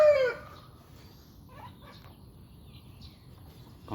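A Thai fighting rooster gives a short crow at the start, then faint chirps and scattered bird calls follow over a quiet outdoor background.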